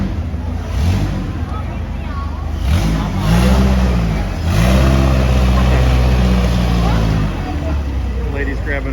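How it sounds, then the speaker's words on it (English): A speedboat at the Damnoen Saduak floating market in Thailand runs its engine loud and close, surging up and easing off in waves as people talk nearby. "The lady's grabbing a free ride off the speedboat."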